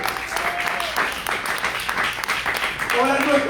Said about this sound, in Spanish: Le pongo un aplauso al Señor en esta noche.